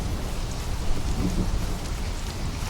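Heavy rain pours steadily in a video game with Unreal Engine 5 graphics, and a deep thunder rumble rolls beneath the dense, constant downpour, with no voices.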